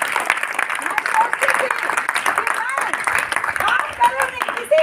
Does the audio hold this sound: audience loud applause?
yes